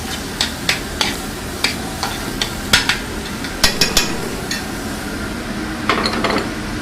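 Fresh chopped garlic goes into a hot pan, a steady sizzle running underneath while a spoon repeatedly clinks and scrapes against the metal in quick, uneven taps, with no talking.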